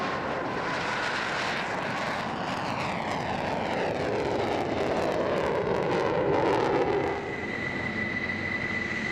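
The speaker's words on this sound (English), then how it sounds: "One of the MiGs gets airborne." A MiG jet fighter takes off at a night air show, trailing fireworks. Its loud, continuous engine roar fills the whole stretch, swelling to a peak and then easing slightly.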